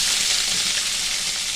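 Chopped onion hits hot oil already tempering with golden chana dal and urad dal for masala dosa filling, a steady, loud, bright sizzle that holds evenly throughout without talk.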